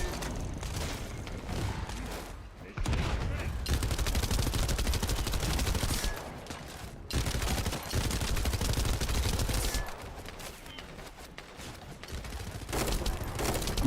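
Gunfire in the shooter video game The First Descendant: dense, loud, sustained automatic weapon bursts with rapid rattling shots, broken by a few short pauses, close and continuous throughout.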